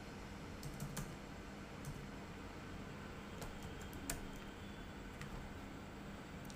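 Soft, sparse keystrokes tap on a computer keyboard in a quiet room. Individual clicks come irregularly, a few at a time, faint against a low steady background hum.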